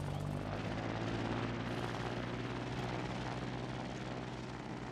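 Biplane engine in the Trailmakers video game, a steady droning propeller hum with a low tonal rumble that holds even and unbroken throughout, no talking.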